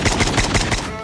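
SKS rifle firing in the Call of Duty Mobile video game, about five rapid evenly spaced loud shots in quick succession, followed by a short fading tail.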